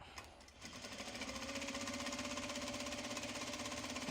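A sewing machine top-stitching an upcycled obi fabric belt bag starts up after a brief pause, then settles into a fast, steady, rhythmic chatter of the needle, close and clear with no talking.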